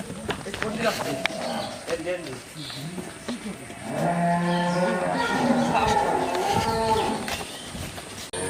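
A dairy cow moos loudly and at length at a busy cattle market, with people talking and general crowd noise around it.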